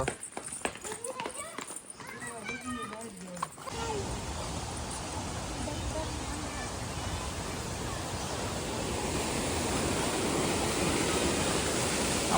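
Water pours down from above at the Kileshwar Mahadev waterfall in the Barda hills near Bhanvad, Porbandar, making a steady broad rushing roar that fills the clip. It follows a few seconds of mixed clatter and handling noise.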